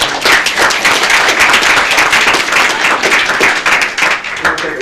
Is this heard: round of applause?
yes